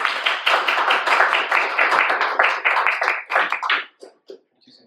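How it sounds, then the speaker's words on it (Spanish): A conference audience in Chillán applauds a visiting doctor: dense, steady clapping from many hands for about four seconds, then thinning to a few scattered final claps. "Un aplauso para el doctor,"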